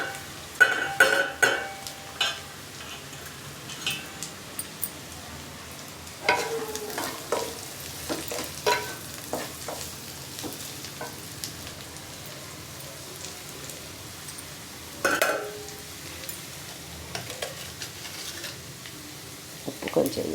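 Beetroot stir-fried in a pan for a children's recipe, with scraping stirs and soft sizzling that come in short bursts and then settle into quieter frying.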